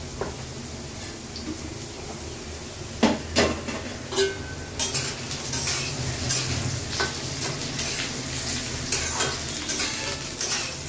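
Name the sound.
potatoes frying in a pan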